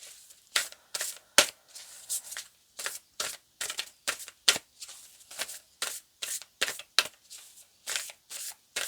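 Tarot cards riffled and shuffled close up, a quick run of crisp papery bursts in an uneven rhythm, with no voices over them.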